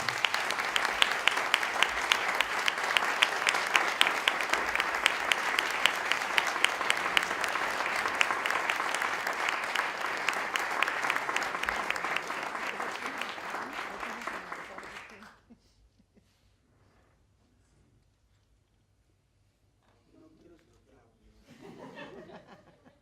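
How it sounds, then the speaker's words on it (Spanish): Audience applause at an honorary doctorate ceremony at the Universidad Nacional de San Martín: loud, dense clapping sustained for about fifteen seconds, then stopping abruptly into near silence before a voice briefly speaks. "Un fuerte aplauso, por favor."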